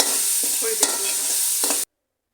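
Biryani masala for chicken biryani frying in a pan: a steady sizzling hiss with a few stirring scrapes over about two seconds, then an abrupt cut to silence.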